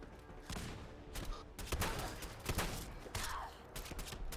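Gunfire in the video game Fallout 4, a series of sharp, irregular shots and impacts spread across the stretch over busy game ambience.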